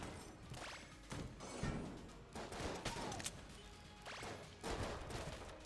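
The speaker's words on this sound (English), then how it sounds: "Fire a shot, reload before I go into the next room." Gunfire from the dungeon-crawler video game Enter the Gungeon comes in scattered bursts of shots and thuds against a busy, muffled game-sound backdrop, fairly quiet overall.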